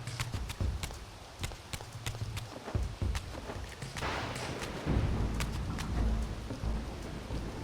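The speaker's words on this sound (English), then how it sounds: "Love, of course, that it's raining like it does in Soul Reaver 2" Steady rain pours in the video game Legacy of Kain: Defiance Remastered, a continuous hiss over a low rumble, punctuated by evenly spaced sharp taps like footsteps or drips.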